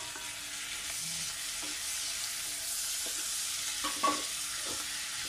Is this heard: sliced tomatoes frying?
yes